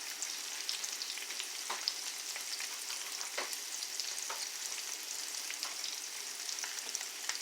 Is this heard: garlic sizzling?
yes